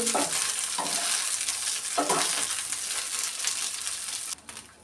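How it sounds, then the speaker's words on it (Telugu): Green chillies frying in a pan make a loud, continuous hissing sizzle, with a few stirring scrapes in the first half, then the sizzle drops off abruptly near the end. "బాగా ఫ్రై చేసుకోవాలి"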